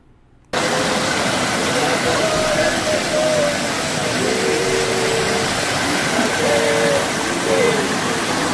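After a brief quiet moment, a waterfall's constant rushing roar comes in and fills the space steadily, with faint voices partly audible beneath it.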